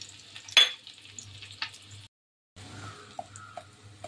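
Crushed garlic frying in hot oil for a prawn masala: a soft, steady sizzle with a sharp clink and scrape near the start, a brief gap of silence midway, then the sizzle again with light ticks.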